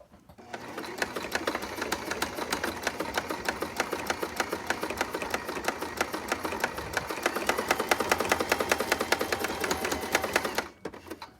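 A sewing machine stitches along the edges of a fabric face mask in one steady, fast, even run of rapid needle clatter, close and continuous, stopping cleanly at the end.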